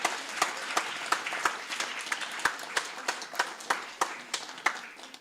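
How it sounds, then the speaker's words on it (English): Audience applause for children at a Hare Krishna Sunday feast, a steady patter of clapping from a modest crowd with sharp individual claps popping out in a loose, uneven rhythm. "Let's give a big round of applause for all the kids."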